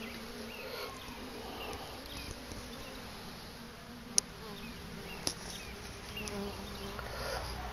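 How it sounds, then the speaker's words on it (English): Honey bees from a small swarm buzz around hive frames being lifted from a swarm trap, a faint continuous hum with a few soft clicks and knocks. "I'm just going to move both of these frames at the same time because they're holding on to each other."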